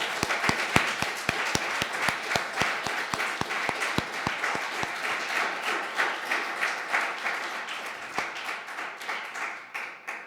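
An audience applauds inductees at the International Green Industry Hall of Fame ceremony at the University of Redlands, opening with loud, sharp, rhythmic claps from a nearby person over dense clapping from the crowd, then a gradual fade.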